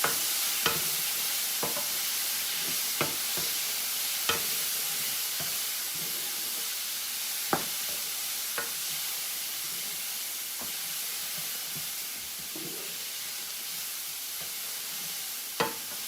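Vegetables sizzling in hot olive oil while being stirred, a steady close hiss with sharp scrapes of the utensil against the pan, no voice.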